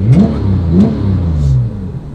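Porsche GT3 engine with its exhaust flaps open, revving in short bursts and settling into a steady raspy drone, loud and close without speech.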